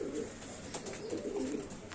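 Pigeons coo steadily inside a coop, a low throaty burble repeating across the whole stretch at close range, with faint background rustle and no talking.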